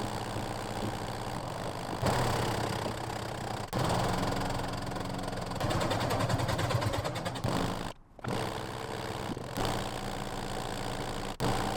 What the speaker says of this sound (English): Now let's sew.